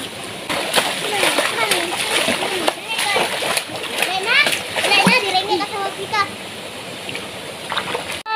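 Children splashing while swimming in water in a remote village, steady close splashing and sloshing throughout with children's excited voices talking and calling out over it.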